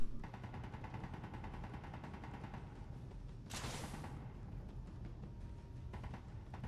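Automatic weapon fire in the video game Space Engineers, a rapid, steady stream of faint shots over a low rumble, broken by a short burst of hiss partway through.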